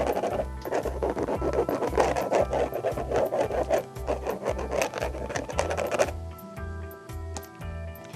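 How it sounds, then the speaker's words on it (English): A skinny paintbrush scratches texture into a canvas painting in quick, rhythmic rubbing strokes, close and steady, changing to a lighter, sparser scraping near the end. "I like taking my skinny brushes too and scratching in some texture."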